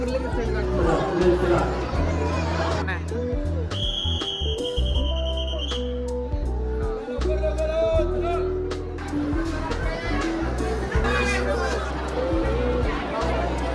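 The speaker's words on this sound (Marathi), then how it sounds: "आज गुरुवार असल्यामुळे भरपूर गर्दी." Crowds of devotees chatter at the Akkalkot temple on a busy Thursday, a close, continuous babble of many overlapping voices. A brief whistle-like tone rises above it midway.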